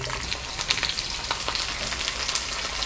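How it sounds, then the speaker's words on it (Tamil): Loud, continuous sizzling of garlic and onion frying in hot oil for a garlic tamarind curry, with crackling pops and occasional stirring scrapes. "இப்போ நம்ம பூண்டு வெங்காயம் ரெண்டுமே போட்டுக்கலாம்."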